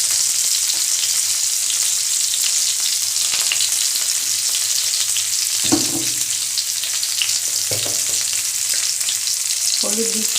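Cauliflower and carrot fry in leftover fish-frying oil, giving a continuous crackling sizzle with a few soft clinks of a utensil against the pan near the end.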